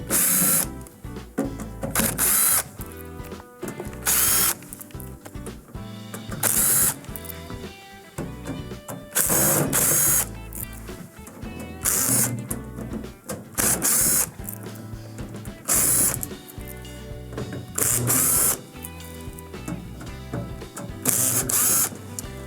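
Phillips screws being backed out of the rear panel of a Whirlpool microwave, a ratcheting mechanical whir in repeated bursts with short pauses between screws, close and fairly loud.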